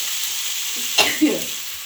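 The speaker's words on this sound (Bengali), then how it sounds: "যতক্ষণ না তেল বেরাতে থাকে ভালো করে একটু কষে নেবো" Spice paste sautéing in oil in a pan gives a steady, close sizzle, with two brief louder scrapes of stirring near the middle before the frying hiss settles back.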